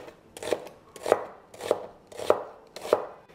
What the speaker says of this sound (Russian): Перец нарезаю полосками.